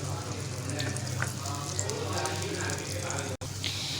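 Ghee poured into melted sugar in a pan sizzles and crackles steadily, a loud close frying hiss lasting throughout with a brief drop near the end, while someone talks over it.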